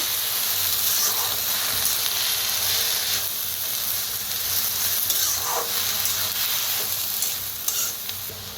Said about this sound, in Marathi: तर भाजी आपण मिक्स करून घेऊया